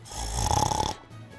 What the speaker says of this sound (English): Sounded more like a fucking pig than a snore.